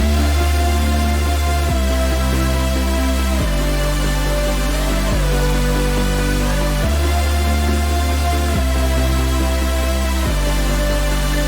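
Rendered future bass synth stack of chords, bass and sub bass playing together, a dense loud pad progression with chord changes roughly every two seconds and a wobbling lead line on top, continuous throughout.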